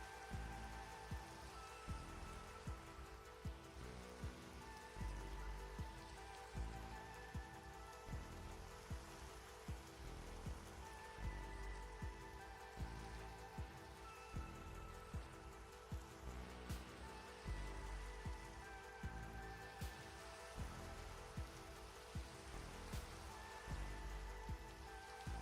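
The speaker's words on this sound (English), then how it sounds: "And just in time for the rain." Steady Minecraft rain patters on surfaces throughout while a rhythmic, looping musical beat plays underneath at a constant level.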